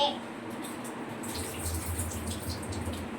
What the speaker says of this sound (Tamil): பச்சரிசியும் கழுவணும்